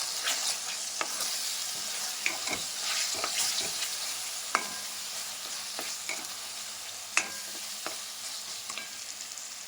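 Pasta stirred with a packet of sauce mix in a pan, steady soft scraping and sizzling with scattered sharp spoon clicks against the pan throughout, close and alone without talk.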